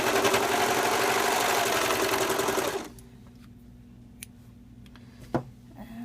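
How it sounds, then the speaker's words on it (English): A serger runs at speed along the edge of a V neck tee shirt, a loud rapid mechanical whir for about three seconds that stops abruptly, followed by quiet handling clicks. "And we will just serge it straight off the"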